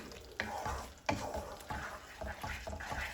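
Aloo matar masala being stirred as it fries in oil, a close sizzle broken by repeated scraping strokes of a spoon across the pan in an uneven rhythm.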